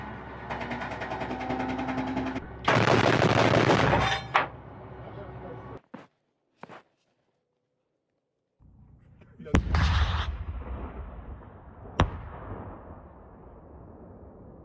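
A military vehicle's weapon fires at a training range: loud, sharp blasts and booming bursts stand out among stretches of rumbling noise and near silence, with a few separate shots later on.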